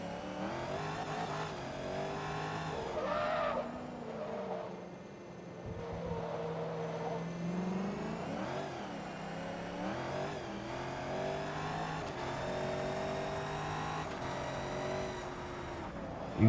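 A Corvette race car in Forza Motorsport 2 accelerates through its gears with a loud, steady engine roar, rising and falling in pitch with a brief dip mid-run, heard alone without talk.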